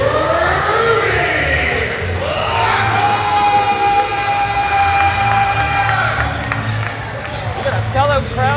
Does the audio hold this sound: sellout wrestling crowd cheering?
yes